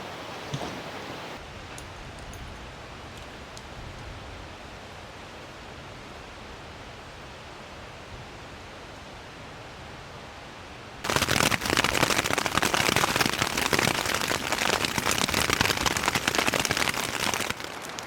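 Rain falls at a backpacking campsite in Bechler Canyon, Yellowstone National Park, at first as a soft steady patter, then abruptly turning into a loud, dense downpour that drums on without pause.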